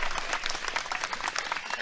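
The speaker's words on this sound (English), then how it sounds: "Hope this clap sounds all right" Clapping sound effect played on a live talk show, a brief burst of quick, fairly faint claps like a small crowd applauding.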